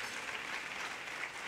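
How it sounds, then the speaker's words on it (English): A room full of people clapping, dense and steady applause that holds at an even level throughout. "Yeah, you can clap for that"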